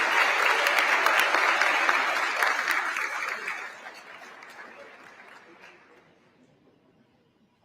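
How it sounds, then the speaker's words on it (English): A room crowd at a school meeting applauds the boys volleyball team, regional champions, with loud, full clapping that fades gradually over several seconds and a few chuckles mixed in. "give them a round of applause."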